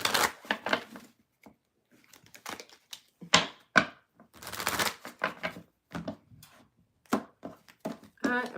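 A deck of tarot cards is shuffled by hand in repeated crisp riffling bursts and flutters, close and fairly loud, with short pauses between runs and a voice faintly present at moments.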